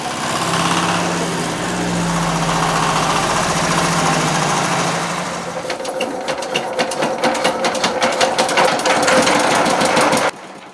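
A granulating machine turning dried manure into granules, first a loud steady mechanical whir and hum, then a rapid, rhythmic clattering and tapping that continues until it stops abruptly.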